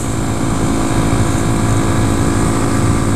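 Small 2014 Honda Grom motorcycle engine revving steadily while riding through corners, loud and close with constant wind rush, no talking.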